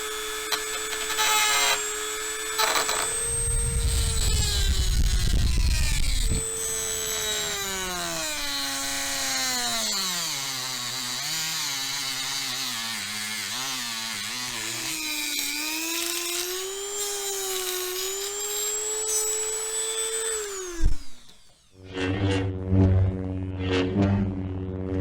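A Dremel rotary tool with a cutting disc runs on a model railway layout, a loud high whine that shifts pitch as it bites and eases, bogging down in places, then stopping before a short clatter.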